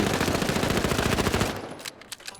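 Rapid automatic gunfire with recoil in the shooter game The Finals, a dense, loud stream of shots for about a second and a half before it stops, leaving a few scattered trailing pops.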